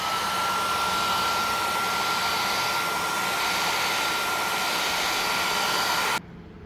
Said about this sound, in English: for the speed I'm going to do it with the hairdryer